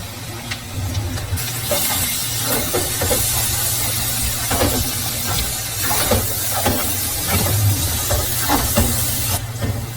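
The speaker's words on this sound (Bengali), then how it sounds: "মশলাটা ভাজা ভাজা হয়ে আসছে" Onion paste with ginger and garlic fries in a pan, a loud steady hiss and sizzle with crackling pops and occasional stirring scrapes, the hiss growing brighter for most of the stretch.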